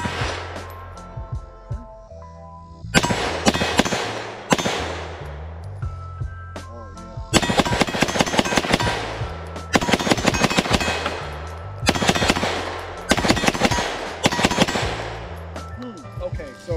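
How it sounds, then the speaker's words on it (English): A Grand Power Stribog A3 fires loud, sharp shots outdoors, first a few single rounds and then rapid strings of close, echoing reports in bursts, with someone talking quietly before the shooting starts. "This is gonna be my first time shooting it."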